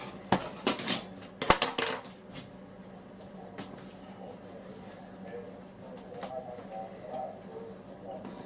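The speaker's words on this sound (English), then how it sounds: "I'm just going to go around the sides with a knife" A knife scraping around the sides of a non-stick cake pan holding an upside-down pineapple cake, with a few sharp metallic clinks and scrapes early on, then softer rubbing under quiet talk.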